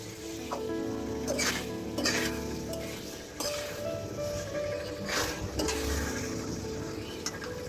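Potatoes and pointed gourd are sautéed in spice masala with panch phoron, dried chilli and bay leaf for a vegetable curry, giving a quiet sizzle under intermittent scraping stirs of a spoon against the pan.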